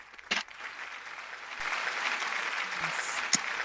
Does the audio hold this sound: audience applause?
yes